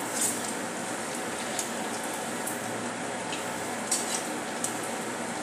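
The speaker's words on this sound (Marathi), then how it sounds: "लो टू मीडियमवर आपण तळून घेऊया।" Potato balls frying in a pan of oil over low-medium heat, a steady soft crackle and sizzle running throughout with a few brighter pops, close and fairly quiet, with no talking.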